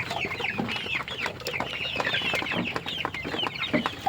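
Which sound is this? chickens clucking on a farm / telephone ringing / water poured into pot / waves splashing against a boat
chickens clucking on a farm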